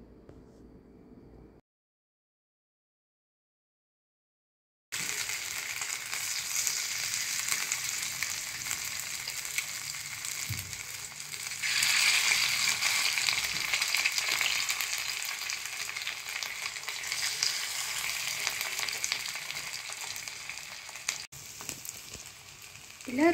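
Fish pieces pan-frying in oil on a flat griddle, a steady close hiss and sizzle that runs unbroken after a brief silent gap near the start, swelling a little louder partway through.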